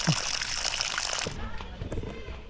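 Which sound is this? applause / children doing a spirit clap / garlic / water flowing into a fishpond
water flowing into a fishpond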